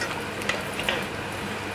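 Water being mixed into a cooking mixture, a short burst of wet hissing and bubbling texture with a couple of light utensil taps, brief and close.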